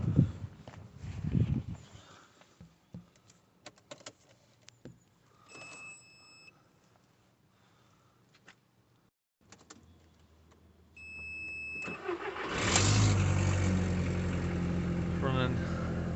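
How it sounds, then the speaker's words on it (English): Audi TT with a weak battery, hooked to a booster pack: a quiet stretch with clicks and a couple of electronic chimes, then the engine catches and runs loudly and steadily to the end. "So we're going to try and start it again"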